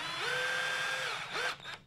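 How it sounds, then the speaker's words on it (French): A TOPSHAK TS-ED1 cordless drill driver whines loud and close in a short burst, its motor spinning steadily before a brief stop and a quick second rev, with no talking. "on va commencer par un petit test de vissage et de perçage"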